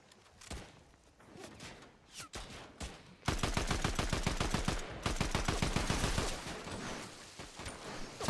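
Rapid gunfire bursts in the Fortnite video game: sparse, scattered shots at first, then loud, dense volleys of machine-gun-like fire that pause briefly and resume, close and sustained, with no talking.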